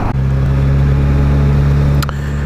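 A 2019 Kawasaki Versys 1000 motorcycle ridden along at a steady pace, a constant loud engine drone with rushing wind noise throughout and a brief sharp knock near the end.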